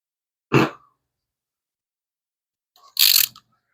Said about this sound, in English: Let me grab a ratchet so I can just tighten that down.